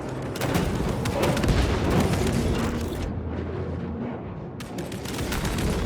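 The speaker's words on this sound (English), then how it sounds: "Frag grenade out!" A frag grenade blast in Space Marine 2: a loud, dense burst of explosive noise amid ongoing gunfire and battle din, with a brief drop in the high end midway before the clamor resumes.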